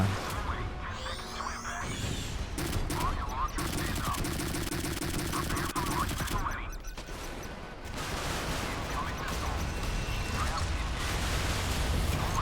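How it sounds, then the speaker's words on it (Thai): Rapid bursts of gunfire in the naval game Modern Warships crackle continuously, with heavy automatic fire and explosions layered over game sounds and occasional talk. "เสียงปืนจากนู้น"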